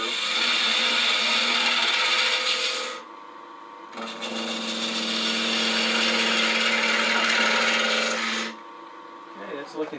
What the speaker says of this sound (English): So now I'm going to bring this around my 1/2 inch spindle gouge and just start